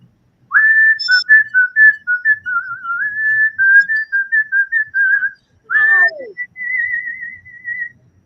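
A two-time world champion whistler performs a song at a conference, a clear, loud melodic whistle with sustained notes, slides and vibrato, close to the microphone with a short pause midway and no talking.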